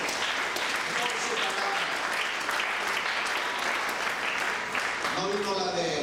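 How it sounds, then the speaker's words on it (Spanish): Sustained applause from a church congregation during a sermon, steady clapping filling the whole stretch, with a voice beginning to speak over it near the end. "Denle un aplauso al fuerte, amado."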